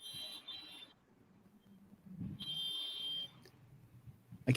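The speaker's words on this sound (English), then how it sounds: "I can hear someone beeping their horn in the background." A distant electronic beeping in two bursts, thin and high-pitched, comes through a broken online call, fitting a car horn sounding in the background.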